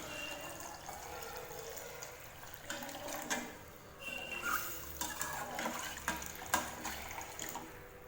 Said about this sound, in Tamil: இப்போ இது கூட நம்ம குழம்புக்கு தேவையான அளவுக்கு தண்ணி ஆட் பண்ணிக்கலாம்.